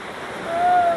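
Rushing water on the Kali River Rapids raft ride at Animal Kingdom, a steady, close, broadband roar that swells slightly over a brief moment.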